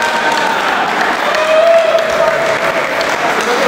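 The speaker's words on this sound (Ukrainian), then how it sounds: "Аплодуйте, будь ласка." Audience applause at a volleyball cup award ceremony in Smila, steady sustained clapping from a crowd filling the hall, with a faint voice briefly audible under it.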